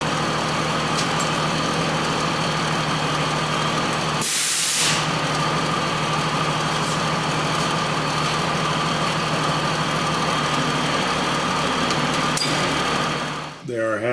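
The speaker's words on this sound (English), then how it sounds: "Using the hoist on the truck, get it spread around here, try and get it set back down so this side's up in the air." A truck-mounted hoist lifting the rear end of a backhoe, heard as a steady engine and hydraulic whine with a short hissing burst partway through and another near the end.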